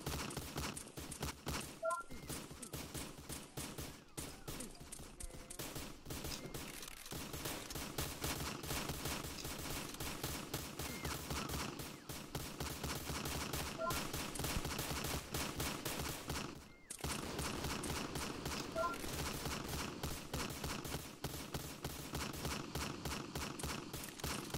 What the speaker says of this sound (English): that gun that you see that shoots the flames, yes, that gun is in fact a stacked gun